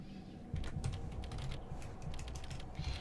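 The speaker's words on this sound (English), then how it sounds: "my keyboard's on an angle, so it's difficult to type" Keys clatter on a computer keyboard set at an angle, a close, quick and uneven run of clicks that picks up after a brief lull and continues with no voices.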